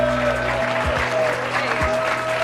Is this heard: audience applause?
yes